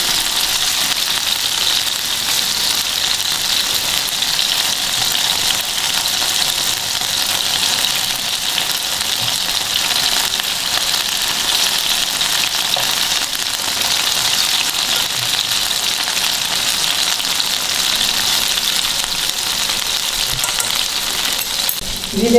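Tawa seekh kebabs fry on a hot griddle with a loud, continuous, close sizzle and hiss that stays steady throughout, with no voices.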